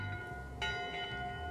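A bell rings in the video game Return to Monkey Island, one clear, resonant strike with a long sustained ring over quiet ambience.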